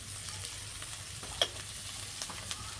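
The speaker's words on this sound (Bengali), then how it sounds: "এখন ভালো করে মশলাটা কষাই নেন নাকি" Spices frying in oil in a pan while being stirred: a steady, soft sizzle with scattered scraping clicks from the stirring, close and fairly quiet, with no talking.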